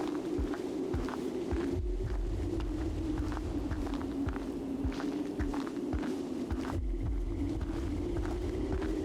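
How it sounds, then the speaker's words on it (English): A low, steady heartbeat-like throb pulses under a droning hum in the Eclipsium video game, with soft repeated thumps at an even rhythm over a continuous rumbling ambience. "Am I hearing a heartbeat?"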